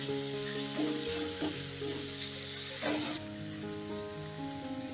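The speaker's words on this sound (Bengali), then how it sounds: "টমেটোটা আমি হালকা করে ভেজে নেব।" Chopped tomatoes fry lightly with a pinch of salt, a steady close hiss of sizzling oil with occasional soft stirring scrapes throughout, and no voices.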